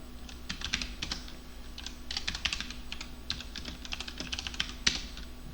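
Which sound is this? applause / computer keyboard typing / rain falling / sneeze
computer keyboard typing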